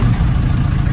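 A 1975 MK1 Ford Transit diesel engine running just after starting, a loud, close, steady low rumble with a rough, continuous texture.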